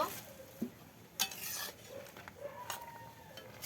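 Nimki pieces are stirred in sweetened milk syrup in a pan, with soft scraping and faint bubbling, sizzling texture and a few light clinks of a utensil, quiet and close.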